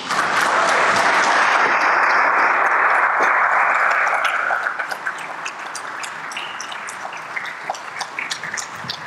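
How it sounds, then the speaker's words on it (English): An audience at a Ghana CEO summit in 2019 gives a speaker a round of applause: dense, loud clapping that holds steady for several seconds, then thins into lighter scattered claps. "another round of applause for our resource person, Reverend Celia Appiah J. Collins"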